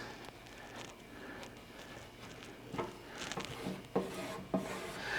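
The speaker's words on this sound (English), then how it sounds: "Now, as you can see, I'm just taking my squeegee and just squeegeeing that in place." A squeegee is rubbed across paint protection film to smooth it into place, making a soft, continuous rubbing and scraping with a few louder squeaky strokes near the end.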